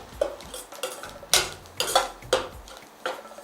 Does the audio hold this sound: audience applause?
no